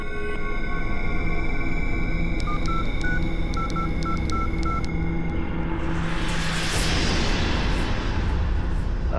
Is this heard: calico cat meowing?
no